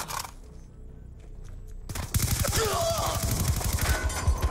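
Rapid, dense gunfire from the Call of Duty Black Ops 2 video game bursts in after a quieter opening, with loud repeated shots and a voice briefly heard over the battle.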